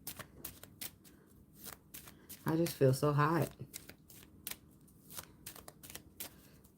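A deck of tarot cards is shuffled repeatedly, producing a steady run of crisp riffling and slapping bursts, while a person speaks briefly in the middle.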